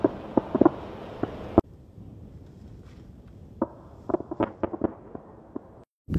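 Artillery fires live rounds at night during desert training, sharp distant booms and cracks in irregular bursts, several in quick succession, set against a low steady background.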